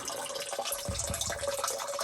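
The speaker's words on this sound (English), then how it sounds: "You can see just how much water's coming out of the spring. Pretty good stream there." A good stream of water flows out of a spring, a steady close gurgling splash that continues without break, with no voices.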